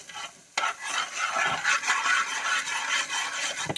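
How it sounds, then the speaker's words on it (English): Black pepper and salt being stirred together, a steady scraping swirl that runs nearly continuously after a brief pause near the start, moderately close, with no talk. "We're going to give that a good mix."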